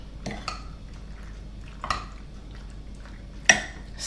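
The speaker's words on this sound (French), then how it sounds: "Je mélange." Creamy mushroom pasta sauce is stirred in a pan, with a few sharp clinks and scrapes of a utensil against the metal over a low, quiet background. No one speaks.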